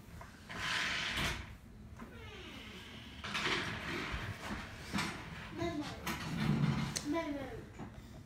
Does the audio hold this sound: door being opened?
yes